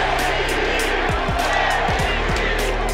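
Denver Nuggets fans in an arena cheer for center Nikola Jokic during his 2022 back-to-back MVP season, a dense, steady roar of many voices that holds at an even level for the full three seconds with no clear speech on top.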